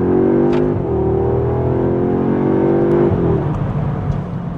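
An Audi A3 S in dynamic mode accelerates hard in second gear while merging onto a 110 km/h road, engine note rising steadily with a brief dip at a gear change, loud and close throughout.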